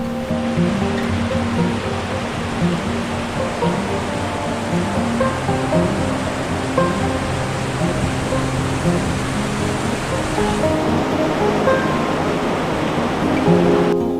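River rushing near Surke in Nepal's Khumbu trekking region, a steady, dense roar of flowing water that stays loud and even for the whole stretch, with no voices.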